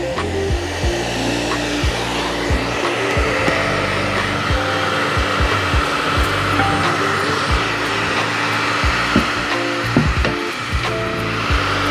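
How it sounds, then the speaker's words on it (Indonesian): A hair dryer blows steadily on screen-printed ink on t-shirt fabric, a loud continuous whooshing motor hum that runs unbroken throughout. "Ini kalau dari luar sudah kering dengan hair dryer, maka kita balik dari dalamnya juga."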